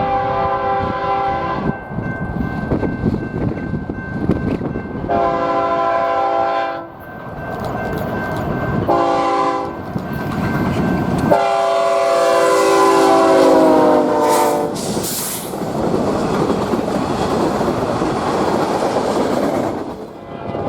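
A BNSF freight local led by locomotive BNSF 7272 passes on the Southern Transcon, sounding repeated loud horn blasts over a heavy rumble and rolling clatter of railcars, building then sustained as it goes by.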